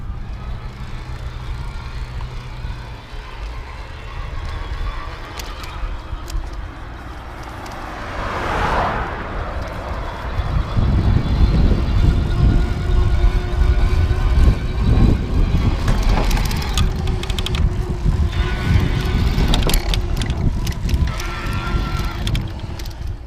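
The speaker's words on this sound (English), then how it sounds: "You can hear the motor running a little bit long after I stop pedaling" A Kalkhoff Sahel Compact Impulse 8 electric bike climbs uphill, its motor giving a steady whir beneath strong wind rush and road noise that grow louder midway, with no talking.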